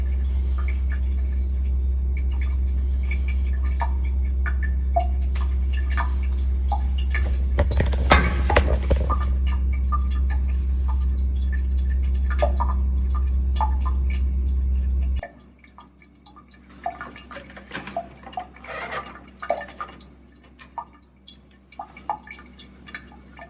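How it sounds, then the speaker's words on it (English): Liquid drips in a chemistry lab setup during an SN1 substitution experiment, faint irregular drops heard first under a steady equipment hum that cuts off partway, then alone. "Watching something drip."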